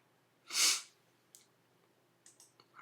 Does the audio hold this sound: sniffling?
yes